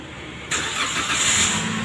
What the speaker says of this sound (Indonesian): saya starter untuk mesin ya